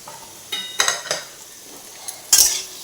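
A few brisk scraping stirs and clinks of a spoon against a pan break through a quiet background sizzle as spiced potatoes fry, with the louder strokes arriving in short bursts.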